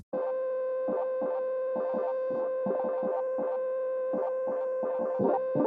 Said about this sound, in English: They cranked up the resonance of this filter, turning it into an actual self-oscillator.